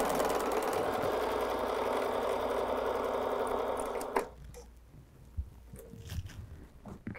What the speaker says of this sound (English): let's sew 1/4 inch on the other side of that, being as precise as we can